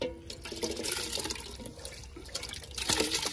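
Water pours into a pot holding a kilo of rice for mutanjan, a steady splashing and trickling fill with a few brief surges, close and alone without talk.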